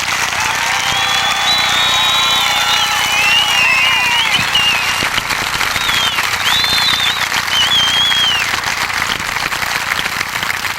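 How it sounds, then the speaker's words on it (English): Sustained applause from the audience at a United States Air Force basic training graduation parade, a dense outdoor crackle of many hands lasting throughout, with birdlike whistles and cheers riding above it. "Give them a round of applause."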